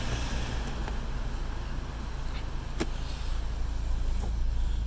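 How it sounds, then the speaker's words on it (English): A nearby car pulls away outdoors, a steady low rumble with broadband road and wind noise holding throughout, loud and close, with no talking. "there's another car just setting off"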